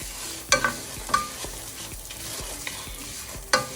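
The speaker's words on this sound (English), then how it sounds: "on high heat, I'm gonna stir this until it's slightly brown" Vermicelli noodles are stirred in a pan over high heat as they brown, a steady sizzle and fry hiss broken by sharp scraping clacks of the spoon against the pan every second or so, close and clear.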